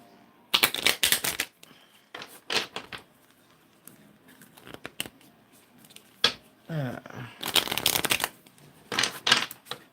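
Oracle cards being shuffled by hand in several bursts of crisp riffling and flicking, with short pauses between them and no talking.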